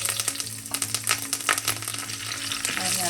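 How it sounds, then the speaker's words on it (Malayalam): A quarter teaspoon of mustard seeds crackles and spatters in hot oil for an egg curry, a dense continuous sizzle with many quick pops and a steady low hum underneath. "അതോടൊപ്പം തന്നെ 1/4 ടീസ്പൂൺ കടുക് പൊട്ടിക്കാം"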